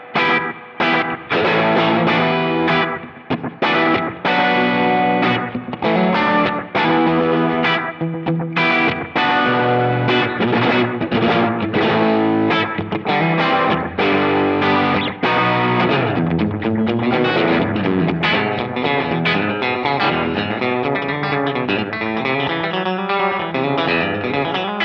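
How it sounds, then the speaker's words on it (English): Electric guitar through a Seymour Duncan Vapor Trail Deluxe analog delay set to a short slapback with few repeats, a busy riff of dense, distorted notes with a quick doubled echo, loud and continuous for about twenty-five seconds. "if I take the repeats down, I can get a really nice slapback delay sound."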